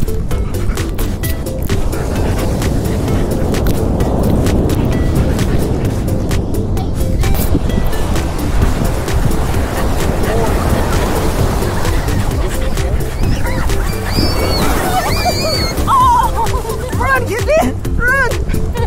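Pacific Ocean surf washing up a beach in a loud, continuous roar with heavy wind buffeting the microphone, while an excited voice talks over it throughout.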